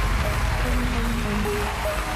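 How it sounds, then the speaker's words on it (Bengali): An audience at a world magic competition applauds loudly for three magician judges, a dense, steady wash of clapping that holds evenly throughout with faint tonal sounds threaded through it. "আমাদের তিনজন গ্রেট ম্যাজিশিয়ান জাজেসদের জন্য একবার জোরে হাততালি হয়ে যায়।"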